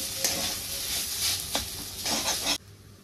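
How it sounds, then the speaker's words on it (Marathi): Grated coconut and potato frying in ghee, stirred in a pan for a modak filling. A close, continuous sizzle runs under a few scraping stirs with a spoon and cuts off sharply near the end. No voices. "नारळ 1-2 मिनिटं तुपावर बटाट्यात छान असं मिक्स करून घ्यायचं"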